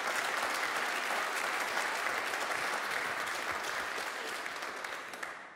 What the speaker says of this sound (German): wir dürfen klatschen, ja!